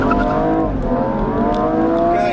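BMW M135i and Audi RS3 launching side by side in a drag race, a loud sustained engine roar with rising harmonic tones as both cars accelerate hard, steady and close throughout.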